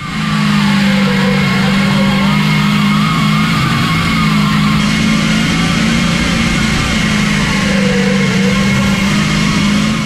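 A loud, heavy twin-turbo Duramax diesel race truck engine roars steadily at high revs, a constant throaty drone with slight pitch swells, close and continuous.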